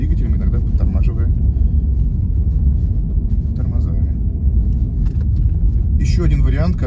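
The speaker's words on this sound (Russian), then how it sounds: "включаем на коробке пониженный ряд и едем, тормозя двигателем, иногда подтормаживая" A car on a winter road trip in the Urals rolls downhill in low-range gear under engine braking, a steady loud rumble throughout, with people talking over it.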